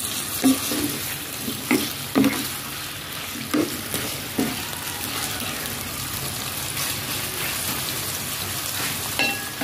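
Meat and soy sauce for adobo sizzle and bubble in a pan, and a spoon stirs them with soft scraping knocks over a constant frying hiss, close up.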